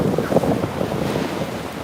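Gusts of wind buffet the microphone, a close, uneven low rumble that surges and dips continuously.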